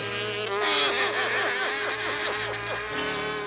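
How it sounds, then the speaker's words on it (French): A cartoon housefly buzzes loudly and continuously for several seconds, its whining drone wavering in pitch as it circles close by, with no talk over it. "Une mouche."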